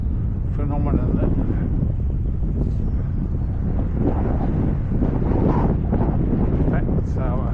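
Steady, loud wind roar buffets the microphone throughout a windy ride home, a constant broadband rush with brief gusty swells and no clear breaks.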